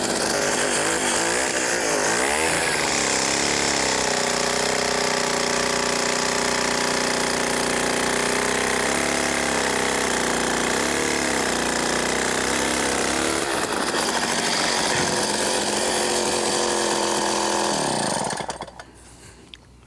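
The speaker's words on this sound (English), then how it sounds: "Now we get Harold to demonstrate how to use an ice auger." A motorized ice auger bores a hole through river ice while fishing, its engine roaring loud and close with a steady buzzing drone that shifts pitch as the blade cuts, then abruptly shuts off near the end.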